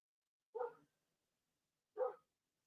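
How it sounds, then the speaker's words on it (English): A dog barks twice outdoors, two short, separate, fairly faint barks about a second and a half apart, with silence around them. "I got a dog barking outside"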